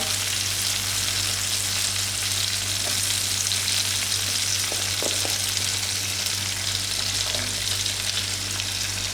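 Peas, French beans and carrots fry in a hot wok with a steady, loud sizzle that fills the whole stretch, with a few faint scrapes of stirring and no talking.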